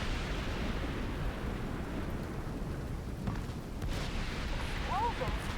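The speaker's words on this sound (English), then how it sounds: "Explosions? What the hell?" Dense, continuous rumbling booms and crackling blasts from The Division 2, loud and steady throughout, with a faint rising tone near the end.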